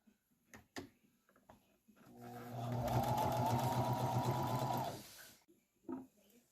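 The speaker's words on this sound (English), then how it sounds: "I'm just going over it first with a zigzag stitch." Sewing machine running a zigzag stitch on denim while altering high-waisted mom jeans: a steady, loud mechanical whirr for about three seconds, framed by faint clicks and handling sounds before and after.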